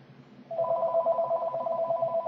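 A telephone rings indoors with a steady electronic warble that starts partway through and continues to the end, loud and close, with no talking over it.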